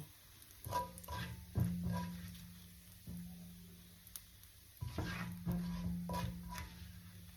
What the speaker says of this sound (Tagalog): At ilalagay ko po ang sauce.